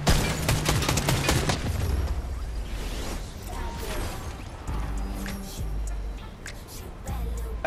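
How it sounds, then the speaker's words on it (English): Dense gunfire and crashing blasts from the video game Fortnite, loud and continuous, with a burst of rapid shots at the start and heavy impacts after it. "I'm shooting it."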